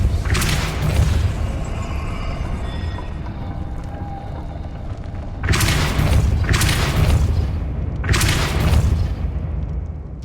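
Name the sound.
Depulso spell cast in Hogwarts Legacy video game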